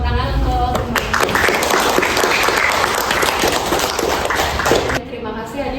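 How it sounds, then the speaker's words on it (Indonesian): Students in an Indonesian classroom applaud together, a dense, steady patter of many hands clapping for about five seconds before it drops away, with voices mixed in. "Tepuk tangan untuk semuanya."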